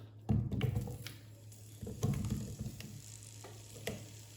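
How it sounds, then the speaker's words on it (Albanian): Zucchini slices dropped into a pan of olive oil that is not yet very hot, giving a soft, close sizzle with a few bursts as pieces land and are spread around, plus light scraping and tapping. "Të kemi gati tiganin me vaj ulliri, jo shumë të nxehtë në fillim, dhe fillojmë me hedhim kungulleshkat"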